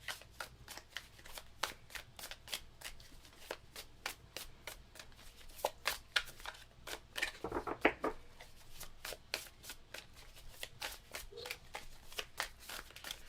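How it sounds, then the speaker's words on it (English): Tarot cards are shuffled close up in quick repeated riffling bursts, with soft slaps and brief pauses between rounds. "I'm going to go ahead and just kind of shuffle some more."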